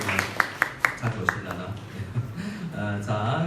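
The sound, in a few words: applause for the guest drummer in church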